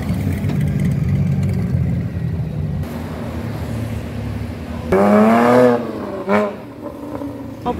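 Porsche sports car engine passing on a street, a steady loud drone that rises into a revving, accelerating sweep as the car goes by close, with other traffic noise in the background.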